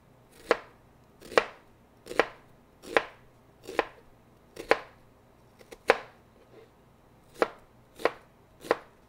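Half an onion is diced with a knife on a board: about eleven sharp, evenly spaced chops ring out close and clear on their own.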